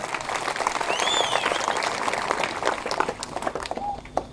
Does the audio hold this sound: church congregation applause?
yes